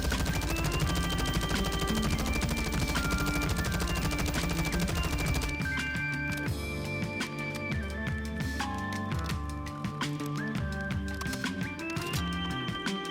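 A 5.56 Icarus machine gun from Modern Warfare 2, an M4-style light machine gun, firing rapid sustained automatic bursts, loud and continuous, with music-like tonal layers running underneath.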